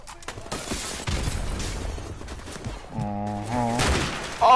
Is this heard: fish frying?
no